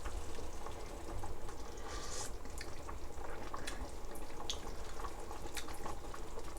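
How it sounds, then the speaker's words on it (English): Water boiling in a pot on a home stove gives a steady low bubbling churn with faint drips and spatters throughout, fairly close and unbroken, with no talk. "it's boiling again"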